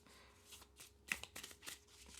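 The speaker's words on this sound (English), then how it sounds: "The cards have this nice coated mat, so it shuffles really well." Coated oracle cards are shuffled by hand, producing a series of quick riffling bursts and soft slaps, close and fairly quiet, with no talking.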